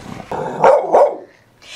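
A pit mix dog at an animal shelter lets out two close, loud barks with a throaty growling edge, with no talking over them.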